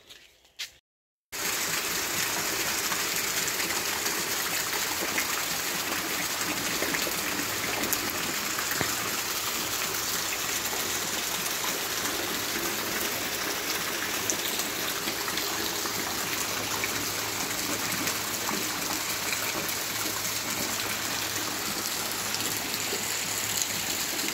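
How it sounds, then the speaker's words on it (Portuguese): Steady rain falls on a garden in a continuous hiss with a soft watery trickle, unbroken for the whole stretch after a brief silent start. "Vou mostrar para vocês também nesse vídeo como tava aqui no jardim chovendo"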